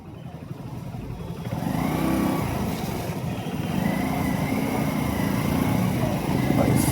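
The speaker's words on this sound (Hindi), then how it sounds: "बाइक में चला रहा हूँ तो जो साउंड है वो थोड़ा सा रहे" A motorcycle rides along a road toward a main road, its engine giving a steady loud drone that rises in pitch as it accelerates, mixed with rushing wind noise close to the mic.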